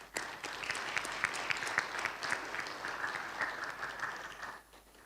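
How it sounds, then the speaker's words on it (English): An audience at an international chief justice forum in Indonesia gives sustained applause, dense clapping for about four seconds before it fades away at the end. "please let's give a big round of applause"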